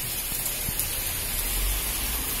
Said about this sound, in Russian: Очень сильный льет дождь.